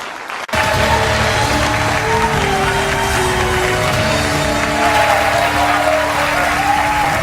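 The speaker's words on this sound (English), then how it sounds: "Please clap." Loud, sustained applause from a large crowd at a 2016 US election campaign event, dense clapping with scattered cheers that continues steadily throughout.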